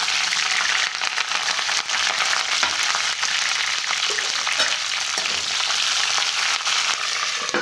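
Green chilies hiss and spit loudly in hot oil with mustard seeds and cumin, a dense, steady frying sizzle with occasional sharper pops throughout, close up and without talk.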